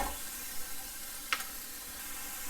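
Vegetables and a teaspoon of minced garlic sizzle in a little leftover oil in a skillet over a medium flame, a steady close hiss with a single sharp crackle partway through.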